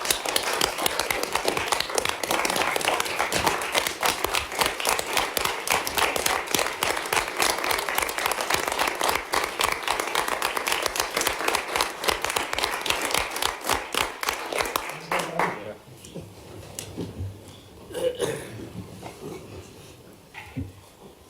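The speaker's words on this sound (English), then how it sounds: "So I'd like to give every one of those members a round of applause." A board meeting audience gives a sustained round of applause, brisk and fairly close, lasting about fifteen seconds before stopping abruptly, with a few quiet room sounds afterward.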